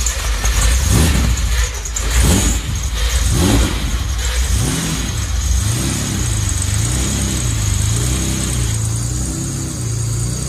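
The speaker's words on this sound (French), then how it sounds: "on va même vous faire écouter la mélodie du V12" A V12 car engine revs loudly and steadily at close range during an open-house day at a car dealership, its throttle rising and falling in a repeated rhythmic pattern over a continuous mechanical roar.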